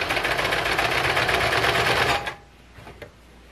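A sewing machine stitches fabric for a blanket shawl with a fast, steady, loud mechanical hum. It then stops abruptly as the needle stays down to pivot at a corner, leaving a few faint clicks.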